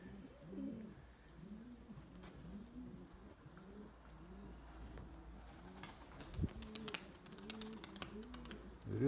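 Tumbler pigeons coo steadily in a loft, repeated soft rolling coos from several birds close by, with occasional chirps and faint tapping underneath.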